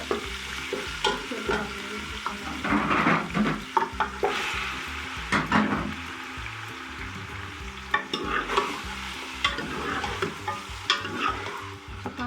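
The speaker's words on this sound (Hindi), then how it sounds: "ये हमने अदरक लहसुन का जो पेस्ट है ना ये उसी ऑयल में हम ये डाल रहे हैं।" Ginger-garlic paste sizzles in hot oil in a chicken karahi pan while a spoon scrapes and stirs it, with a close, continuous crackle and repeated stirring strokes and no talking.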